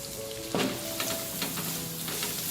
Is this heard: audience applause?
no